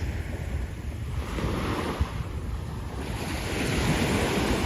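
Waves breaking along the shore at Coney Island beach, a continuous roaring wash that swells toward the end, heavy wind noise over the microphone throughout, no voices.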